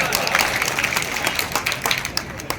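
An audience at a wedding celebration claps in a dense, continuous patter, fairly loud and close, with some crowd murmur mixed in.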